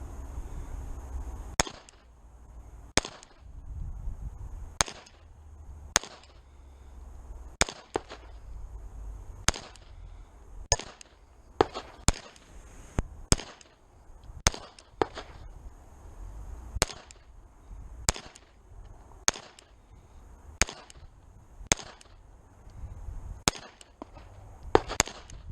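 A steady string of close, loud pistol shots from a Cajun Gun Works CZ P-01 at an outdoor range, each a sharp crack at a fairly even pace over light background noise, with no talking.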